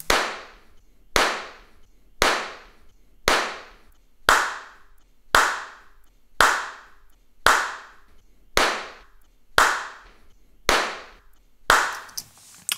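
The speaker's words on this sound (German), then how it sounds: "Also die Klatscher klingen natürlich unterschiedlich und die haben auch eine unterschiedliche Energie gehabt, als ich geklatscht habe." Single hand claps in a room, each crisp and loud with a short reverberant tail, repeated at a steady pace of roughly one per second about a dozen times, alone with no talking.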